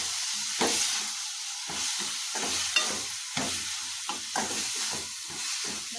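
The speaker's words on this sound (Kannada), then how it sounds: "ಒಂದು ಬೌಲ್ ಆಗುವಷ್ಟು ಕೊತ್ತಂಬರಿ ಮತ್ತು ಒಂದು ಸ್ವಲ್ಪ ಪುದೀನ ಇವೆರಡನ್ನು ಹಾಕಿ ಮತ್ತು ಚೆನ್ನಾಗಿ ಫ್ರೈ ಮಾಡ್ಕೊಳ್ತೀವಿ" Coriander and mint frying in a pan for an egg masala, giving a steady close sizzle and hiss with repeated stirring scrapes and clinks throughout, no voices.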